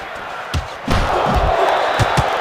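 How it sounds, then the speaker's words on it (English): A boxing video game match between Pacquiao and Sandman: a sharp punch impact lands, then a swelling arena crowd roars over further thudding blows. "Pacquiao never saw that devastating haymaker coming."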